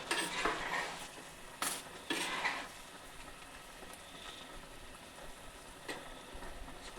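Spice paste being stirred into a stir-fry of rolled, tied colocasia leaves, with a few metallic spoon scrapes against the pan early on, then a quieter low sizzle and occasional light knocks.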